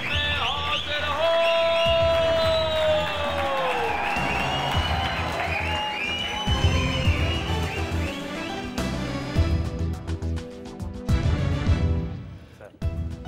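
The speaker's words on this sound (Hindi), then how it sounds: "आपको देखते ही इतनी तालियां इतनी सीटियां" A studio audience greets a pop star on a Hindi TV courtroom show with sustained loud applause and whistles, cheering swelling and fading over music.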